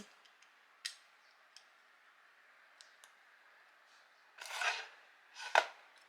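Small Lego floor pieces from a Labubu-themed football pitch set are laid and pressed into place, making sparse faint plastic clicks and then two louder snapping presses near the end.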